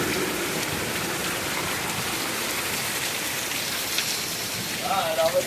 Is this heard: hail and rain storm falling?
yes